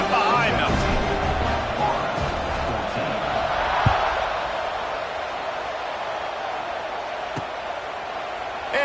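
Stadium crowd roaring at kickoff in the College Football 26 video game, a broad sustained wash of cheering with a couple of sharp thuds, under steady commentary.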